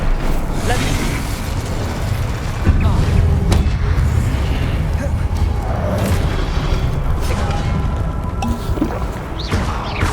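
The Incendio fire spell going off in Hogwarts Legacy: a dense, loud blast of booming, rumbling fire and mechanical game effects fills the whole stretch, with voices in the mix.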